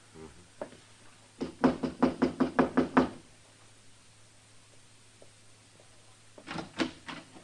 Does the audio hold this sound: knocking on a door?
yes